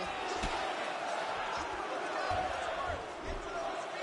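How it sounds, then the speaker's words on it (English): Arena crowd in the fighting game UFC 5 lets out a sustained roar as the fighters get back to their feet, a broad wash of cheering under someone talking, with a few thuds. "huge pop from the crowd as the fighters get back up to their feet"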